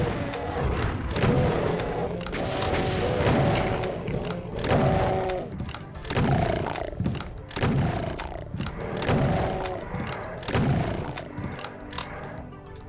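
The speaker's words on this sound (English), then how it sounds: "I hear a lot of revenants" Revenant monsters in a Doom map, their growls and screeches overlapping in a steady, loud barrage with repeated thuds and booms of combat throughout, no speech.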